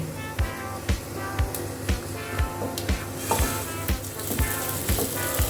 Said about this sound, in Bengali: চালটা ঘি সব মাখানো ছিল, ঢেলে দিলাম